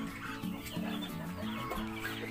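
Backyard poultry flock, including turkeys and chickens, clucking and calling in short, overlapping bursts at moderate distance, fairly quiet and continuous with no one speaking.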